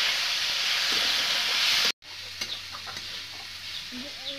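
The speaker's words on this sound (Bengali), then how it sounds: "নাড়াচাড়া করে আমি ভাজে নেবো।" Cumin and coriander paste fries with potatoes in a pan, first as a loud steady sizzle, then after a brief cut a quieter frying with scraping stirring noises.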